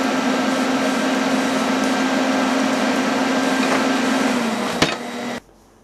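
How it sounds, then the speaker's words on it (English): A steady, loud MIG welder buzz and hiss while a stainless steel patch is welded onto a bike exhaust, running continuously for several seconds, with a brief pop near the end before cutting off. "I've stuck it together with a MIG"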